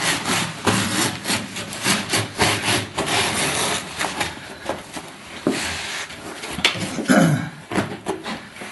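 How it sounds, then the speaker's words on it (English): Carpet is cut along the wall trim while being installed with a carpet stretcher. The close rasping strokes come in a steady back-and-forth rhythm with some scraping and a brief knock near the end, and no talk. "now we're going to cut this wall and we're going to set that."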